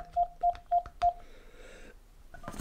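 Dialing tones from a Pixel 3 placing a call: four evenly spaced beeps at a steady pitch, clear and close, followed by faint line noise.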